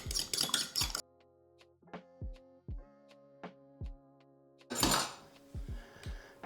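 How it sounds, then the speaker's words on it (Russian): Utensils clink and tap against a bowl in quick bursts with short pauses, bright metallic knocks close by, like beating an egg. "Берем яйцо, хорошо взбиваем."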